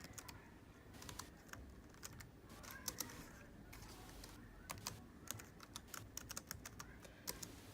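A name is typed on a computer keyboard in a quiet room, with quick, irregular bursts of close key clicks and brief pauses between them.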